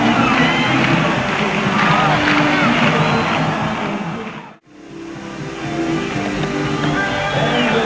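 Dense stadium crowd roar at a 1984 Jacksonville Bulls vs Tampa Bay Bandits football game, a steady loud wash of voices with a brief sharp dropout midway before the noise resumes.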